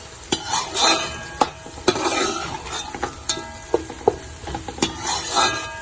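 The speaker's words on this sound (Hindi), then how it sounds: "इसको 2-3 मिनट हम और अच्छी तरह से फ्राई करेंगे" Curry leaves and whole dried red chilies fry in oil with a steady sizzle, punctuated by sharp clinks of a spoon stirring against the pan.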